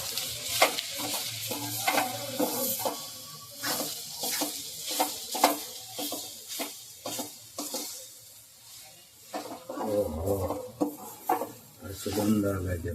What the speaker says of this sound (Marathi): आता आपण कुसभाजी टाकून बघूया. व्यवस्थित परतून घेऊन टाकताना